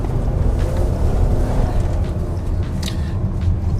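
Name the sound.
2020 Chevy Blazer V6 engine accelerating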